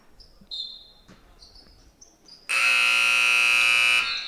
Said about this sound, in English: Additional buzzer.